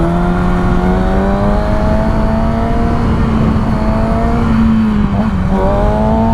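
Kawasaki ZX6R motorcycle engine holding a steady, loud drone close by as it is revved with the clutch in, with harmonics rising and a brief dip and recovery near the end.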